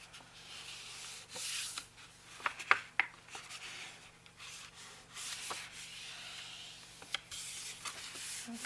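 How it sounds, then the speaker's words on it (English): Paper being folded along small scored lines to form a rounded edge for a hanging file journal, giving soft rubbing and creasing sounds with a few sharp crackles, close and quiet, with no talk. "I'm just folding on those little lines"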